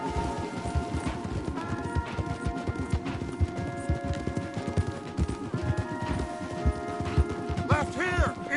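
Horses galloping at speed in the Red Dead Redemption 2 game, a dense steady clip-clop of hooves with a whinny near the end, under a game music score throughout.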